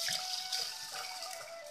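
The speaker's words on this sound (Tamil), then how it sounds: "இப்போ நம்ம இதை தண்ணி ஊற்றி ஊற வச்சிடலாம்." Water pours onto soaking lentils and rice, including toor dal, for a crispy kunukku snack batter, a steady close splashing stream that continues alone without talk.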